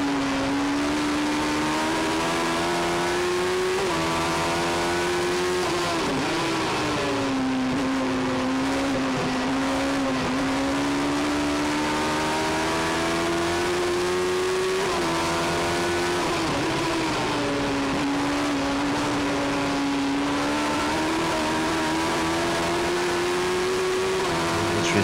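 Race cars battling on the track at Kirkistown, a loud continuous engine drone that rises and falls as the cars rev through gears, with one dominant engine note sweeping up and down over the steady roar of others.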